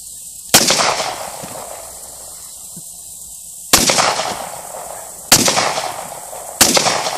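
Beretta 92FS pistol fired outdoors on a hot day: four sharp, loud reports, the first alone and the next three in quicker succession, each trailing off in a brief echo.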